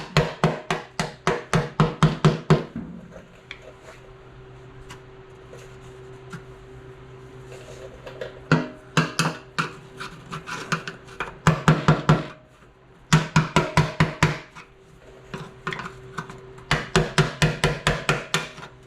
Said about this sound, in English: There's some little tabs to pound on. Basically, we'll tap that around until she pops out.